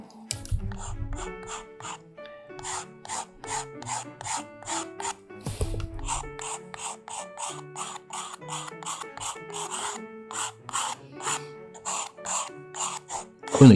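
A pencil tip rubbed back and forth on sandpaper to round it, a close dry rasping in regular strokes over soft background music, steady and repeated for many seconds.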